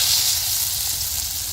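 Raw jackfruit kabab pieces dropped into hot oil, producing a loud, steady, close sizzle and hiss that holds without a break.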